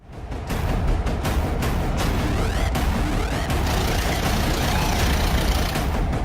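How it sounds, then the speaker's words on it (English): A tractor with a loader, its heavy engine running loud and close, a dense steady rumble that starts up within the first half second and holds through to the end without talk. "tractor with baller, tractor with loader,"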